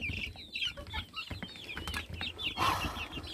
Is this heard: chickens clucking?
yes